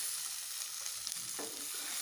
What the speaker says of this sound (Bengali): ততক্ষণ একটু মাছ ভাজা বসিয়ে দিয়েছি, মাছ ভাজছি